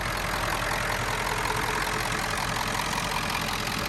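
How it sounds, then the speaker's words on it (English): A Ford F-250 with a 7.3L Power Stroke diesel idles close by with its air conditioning compressor running, a constant rough rumble throughout without talk. "You can hear the AC compressor cutting on,"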